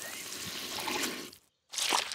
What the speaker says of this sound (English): George has dropped his sponge in a muddy puddle